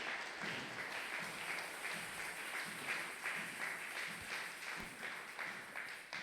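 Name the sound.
congregation applauding the Lord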